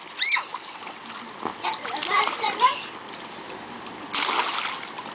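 A child splashes water in a tub in several close, irregular bursts, with a voice heard among the splashes.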